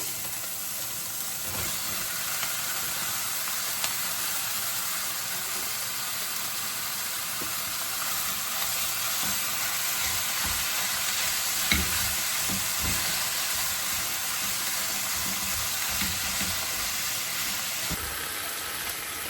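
Hamburger meat sizzles steadily in a hot pan, a continuous crackling hiss with occasional scraping as it is stirred.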